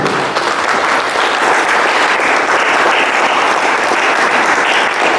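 An audience at a Helpindia leaders' meet in Mandarmani, West Bengal bursts into loud, sustained applause, a dense steady wash of many hands clapping together that continues throughout.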